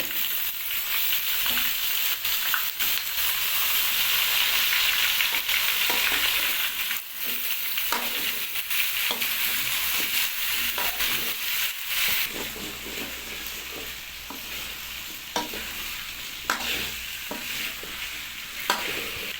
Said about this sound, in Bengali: তো আমাদের এখন আলু কুচি দেওয়া হচ্ছে